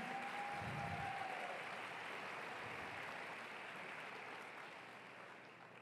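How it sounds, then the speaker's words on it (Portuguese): A congregation at a church conference gives a round of applause, a continuous, even spatter of many clapping hands that sounds faint and distant and slowly fades over about six seconds. "Dê para Jesus uma forte salva de palmas."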